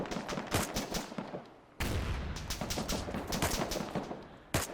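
Sustained automatic weapon fire in the Arma 3 military shooter, rapid loud rattling bursts with a brief pause midway and a final sharp shot, close and continuous, no voices.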